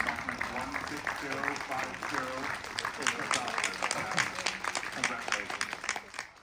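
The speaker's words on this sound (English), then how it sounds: "The Ukrainian delegation was congratulated with applause." Applause from a crowded parliamentary assembly chamber after a vote, a steady patter of clapping under a speaking voice.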